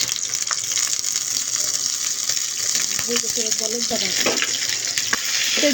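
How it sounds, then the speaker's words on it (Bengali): Chopped green chilli and onion frying in soybean oil in a pan, giving a steady close sizzle with a few stirring clicks and brief bits of voice. "ঝাল পেঁয়াজটাকে আমি এখন সামান্য ভেজে নিচ্ছি"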